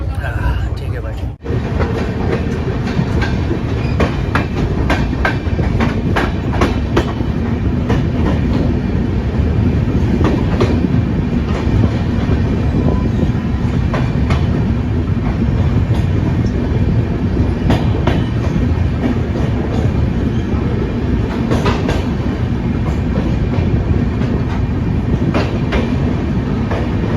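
Wheels of the Nandan Kanan Express clatter in a steady clickety-clack heard from inside a 3rd AC coach, with a constant loud rumble throughout and a voice talking over it.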